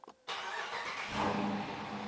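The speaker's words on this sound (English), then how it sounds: "And now with any luck, the car will start." A Dodge Challenger R/T with the 5.7L Hemi V8 cranks over briefly and fires up, settling into a loud, steady idle with a rumbling low end that swells slightly a moment later.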